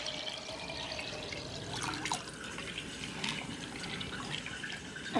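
Water pours and trickles steadily out of an upturned jar of sprouted wheat berries while it drains after rinsing, with a continuous close splashing and small drips throughout, no talking.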